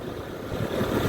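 A Honda ADV 150 scooter engine runs steadily on a test drive through a village, a low continuous rumble that swells slightly louder in the second half, with no voices.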